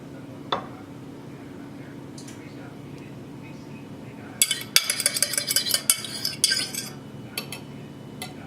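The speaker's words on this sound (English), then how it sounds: "I like just to mix it around a little bit just to get that egg kind of even" A spoon stirs egg mixture into a keto casserole in a dish. Quiet background gives way to a busy run of close scraping and clinking utensil strokes against the dish, with a soft voice faintly present.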